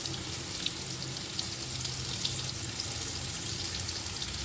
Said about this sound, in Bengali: এই 3টে পটলও ছেড়ে দেবো, ভাজা হবে।